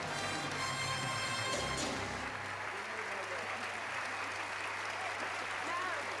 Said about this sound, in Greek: Χειροκροτεί ο κόσμος.